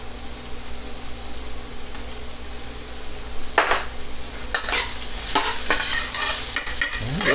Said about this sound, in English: next I'm going to add my garlic